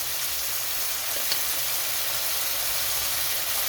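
Shrimp fries lightly in a pan with a constant, dense hiss of hot oil, close and even throughout, with no voices.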